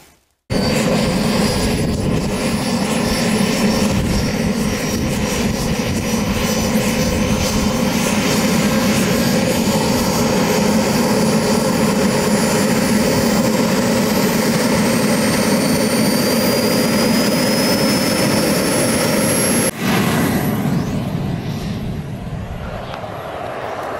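A turbine jet engine on an RC model Hawk aircraft runs loud and close, a steady high whine with a roaring rush held for about twenty seconds before the sound changes briefly near the end.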